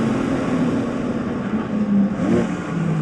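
BMW E46 M3 track car accelerating through a sweeping right-hander at Sonoma Raceway, its engine a steady loud in-cabin drone with a rising note near the end, continuous throughout.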